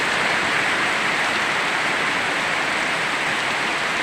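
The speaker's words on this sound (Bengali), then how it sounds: "দেখো 6 মাস পরে বৃষ্টি হচ্ছে" Steady, dense rain pours down in Mohanpur, a constant loud hiss of drops on surfaces with no break.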